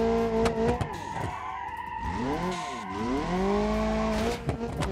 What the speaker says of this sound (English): you gotta love that exhaust